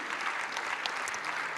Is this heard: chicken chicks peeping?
no